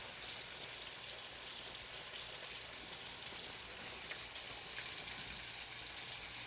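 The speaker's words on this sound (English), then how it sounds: "my water's boiling" Water boils in a pot for spaghetti with a soft, steady, crackling hiss of fine bubbles, quiet and unbroken.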